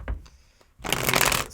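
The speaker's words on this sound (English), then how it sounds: "One more shuffle." A deck of tarot cards gets a quick riffle shuffle up close, with a few soft taps and handling sounds first, then a dense burst of flicking cards lasting under a second.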